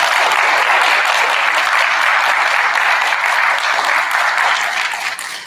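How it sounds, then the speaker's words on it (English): A school awards assembly crowd of fourth graders and families gives a loud, sustained round of applause, a dense, even roar of clapping that tapers off at the close. "Students, how about a round of applause for your parents?"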